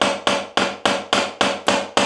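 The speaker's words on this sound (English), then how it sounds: "using a screwdriver and a hammer to get this oil pan off" A hammer drives a screwdriver to pry the oil pan off a KZ1000 motorcycle engine, eight sharp, evenly spaced metallic blows in quick succession, close and loud.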